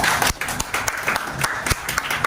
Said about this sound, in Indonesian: Untuk dua orang ini tepuk tangan dulu